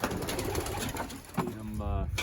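Racing pigeons in a loft cooing softly and close by, low rhythmic coos over a muffled background, with a brief voice near the middle.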